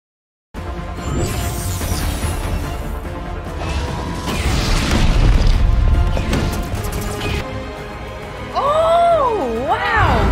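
Grenade blasts in a superhero battle from the X-Men '97 animated series, loud crashing booms and smashes layered over a busy action soundtrack, with brief whooshes and a swelling music line near the end.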